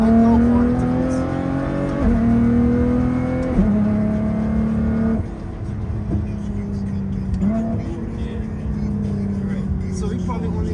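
Nissan GT-R R35 accelerating gently without building much boost, a rising engine drone heard from inside the car through gear changes, with people talking over it throughout.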